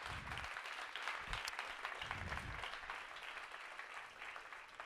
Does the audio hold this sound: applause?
yes